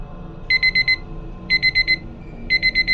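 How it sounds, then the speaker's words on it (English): A phone timer alarm beeps in three repeating bursts of four quick, bright electronic tones, each burst separated by a short gap, loud and close with nothing else around it. "It was my phone, alerting me that the timer I had set reached 0."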